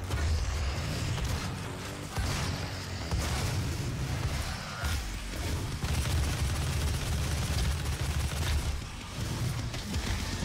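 Game gunfire and mechanical clatter in DOOM (2016), dense and continuous with booming low end and bursts throughout, loud and busy over a heavy mix of effects.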